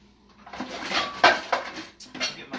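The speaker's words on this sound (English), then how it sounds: "get my smaller iron skillet" A small iron skillet is handled among pots and pans, giving a short run of close metallic clanks and knocks with scraping in between.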